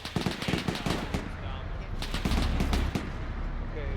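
A half-track firing a .50 machine gun in a WWII video game, rapid bursts of gunfire with distant thuds, loud and sustained, with voices talking over it.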